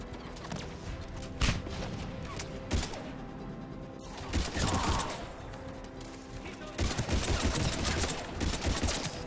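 Pistol fire in the Mass Effect 3 shooter, several sharp shots in quick irregular bursts mixed with combat effects and mechanical clatter, loud and close.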